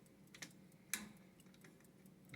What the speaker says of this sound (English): The clock is made by a company called Seth Thomas. You may be able to hear it ticking right now.